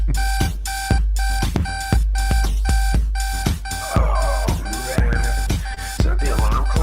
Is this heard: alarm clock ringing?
yes